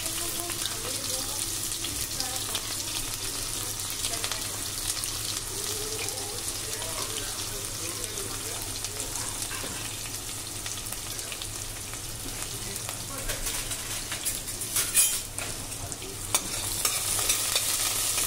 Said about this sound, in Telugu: స్మెల్ వచ్చేంత వరకు అయితే ఫ్రై చేసుకుందాం